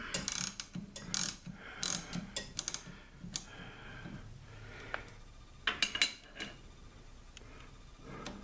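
A hand ratchet clicks in quick irregular runs while backing a bolt out of a Jeep TJ fender, close and fairly quiet, with small metallic taps and handling noises between strokes.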